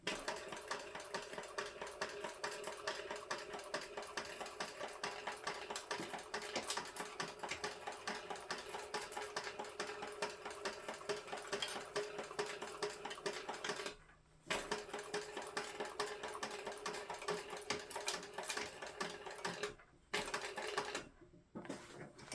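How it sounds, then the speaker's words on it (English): A sewing machine backstitching across threads on a crossbody bag, a fast continuous mechanical whirring and clatter that runs steadily with two brief pauses near the end, close and alone. "I'm going to backstitch well to hold them in place from unraveling later."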